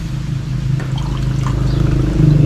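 Water pouring steadily into a cooking pot at an outdoor kitchen for chicken caldereta, a continuous close trickling and gurgling stream with no talk.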